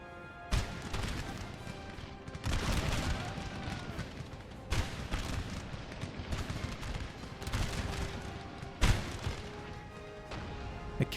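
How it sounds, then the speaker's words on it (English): Cannons in Napoleon: Total War fire repeatedly, with booming blasts and crashes landing at irregular intervals over a dense battlefield din of musketry and explosions. "The cannons are having none of it."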